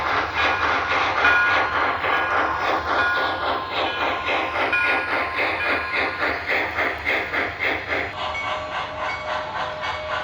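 An MTH model steam locomotive chuffs in a steady rhythmic beat, with a constant hiss of steam and mechanical clatter running throughout.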